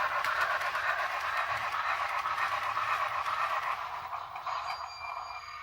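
A model train locomotive climbs a grade on a layout, lurching as it goes, with a steady whirring, hissing run. Its sound-unit noise thins out toward the end.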